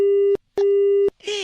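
A phone disconnect tone after a hung-up prank call plays as two loud, steady beeps separated by short gaps, followed by a brief burst of a voice or jingle at the end.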